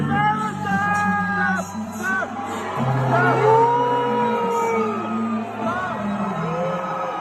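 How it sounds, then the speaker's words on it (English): A large crowd in the UN Assembly hall lets out a sustained, loud wave of booing mixed with scattered cheers, whoops and yells, rising and falling over several seconds. "you can very clearly hear that there's a predominant boo going on"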